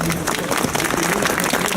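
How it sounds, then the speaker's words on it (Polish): A dense wash of applause from a crowd at a commemorative bench unveiling for Gerard Cieślik, steady and loud throughout, with faint voices mixed into the clapping. "Brawa dla pani Krystyny"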